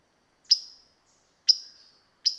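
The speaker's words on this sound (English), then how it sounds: "The chip call is really distinctive. It's this kind of musical chip." Northern waterthrush giving its chip call near a creek: three sharp, bright, metallic chips spaced about a second apart, clear and isolated against silence.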